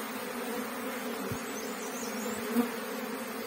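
Honeybees of the Asian species Apis cerana buzz steadily around a traditional log hive, a dense continuous hum close by with no talking.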